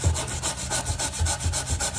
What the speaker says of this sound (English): So what I'm going to do is soak this down. And I'm going to start scrubbing that off.